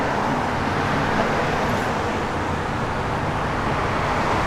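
A 1964 Ford Falcon Sprint convertible runs with its exhaust fitted with an added second pipe for a dual effect, giving a steady, broad engine-and-exhaust rumble that holds evenly throughout.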